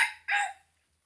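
A rooster crows in two short harmonic bursts, the second louder, fairly close and alone with no talk, fading quickly into silence.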